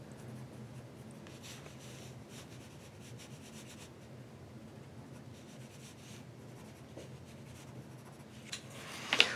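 Graphite pencil strokes on paper while shading a drawing of a human head, a soft continuous scratchy rubbing close up and quiet, with a louder scrape near the end.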